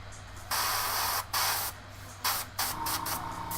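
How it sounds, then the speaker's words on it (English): Black spray paint hisses onto an Imperial Fists miniature in a few bursts: a long spray, a brief pause, another long spray, then shorter blasts. Each burst is loud and close, over a low background hum. "So we're going to kind of spray a little bit of black down and drag it back."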